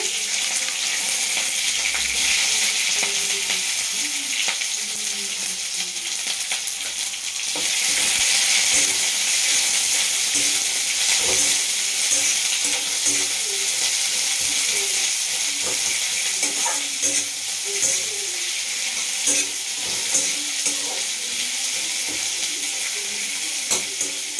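Bay leaf, dried red chili and chopped onion fry in hot oil, a loud steady sizzle that briefly intensifies, punctuated by scraping and stirring clinks throughout, with no voices.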